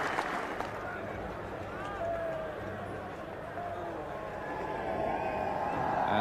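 A large cricket crowd at Lord's in 1982 applauds a batsman walking off the field, a broad, steady wash of clapping and crowd noise that swells slightly toward the end.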